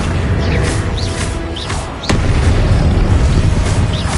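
A fiery blast from the Confringo spell in a Harry Potter video game, a sharp crack about midway that swells into a sustained low rumbling boom over steady game noise, with a few faint chirping effects.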